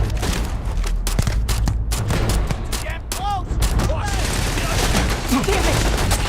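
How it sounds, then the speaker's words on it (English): Dense gunfire from a Starfield video game battle, rapid bursts and loud shots layered with explosions and energy-weapon whines, continuous and close throughout with a voice shouting briefly amid the fighting. "Just shoot everything!"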